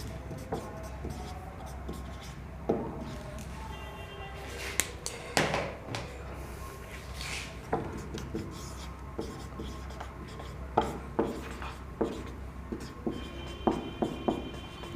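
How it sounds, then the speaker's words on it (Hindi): A pen writes a point in notes on paper, with faint scratching strokes and taps that come in short irregular bursts over a quiet room background. "पहले नोट डाल के एक पॉइंट लिखना है"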